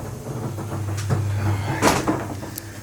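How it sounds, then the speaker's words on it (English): A door opening in a shop with a 1965 Ford Falcon under rust repair, a few clunks and a brief scrape, close and moderately loud, with no talk. "I'll just open the door here."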